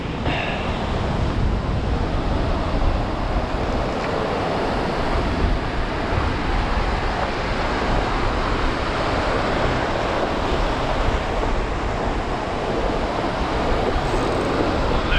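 Whitewater surf rolling onto a beach during evening surf fishing, a loud, continuous roar of breaking waves mixed with wind buffeting the microphone.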